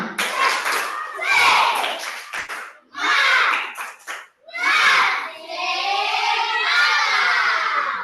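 Children in a classroom clap in rhythmic patterns while chanting and shouting together, loud and close, with pauses between bursts of group voice and clapping.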